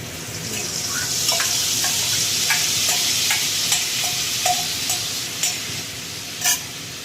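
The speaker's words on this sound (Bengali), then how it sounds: "আলুটা ভাজা ভাজা হয়ে গেছে" Potatoes frying in a pan give a continuous loud sizzle, broken by repeated scraping clicks of a spatula stirring them, with a sharper knock near the end.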